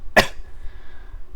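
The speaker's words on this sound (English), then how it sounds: "I have a cough right now." One sharp, loud cough bursts out close by, with nothing after it but faint room noise.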